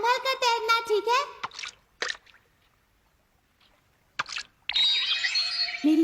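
A cartoon fish splashing back into water: a few brief wet splashes and drips between a child-like voice speaking at the start and more animated talk at the end.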